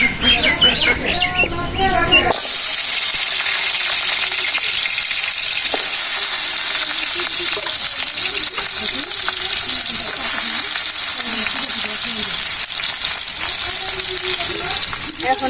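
Potatoes drop into hot oil for a village-style chicken curry, setting off a loud, steady sizzle and bubbling. Voices and rustling come just before, and faint birdsong sounds in the outdoor kitchen.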